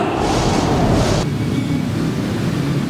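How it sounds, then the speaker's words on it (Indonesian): A strong whooshing wind sound effect from a Sunday school play, loud and continuous like rushing air or surf, with a brighter hiss that cuts out partway through. "Awas, kekuatan angin."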